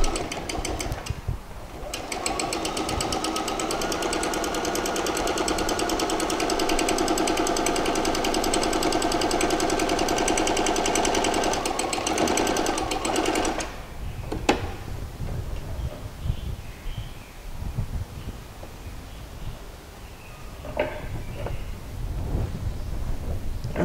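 Sewing machine stitching a seam on a pair of shorts, a steady loud mechanical whir and rapid needle chatter for about twelve seconds, then stopping, followed by quieter handling noises.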